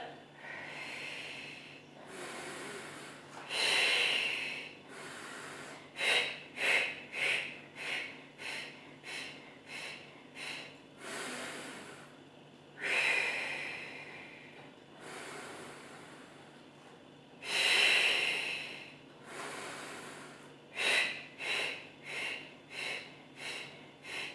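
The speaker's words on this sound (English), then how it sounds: "I'm not going to talk, I'm going to breathe with you." Close, audible breathing during a Pilates workout with a towel, with sharp nasal inhales and forceful exhales in a rhythmic pattern, some slow and drawn out and others in quick bursts, and no talking.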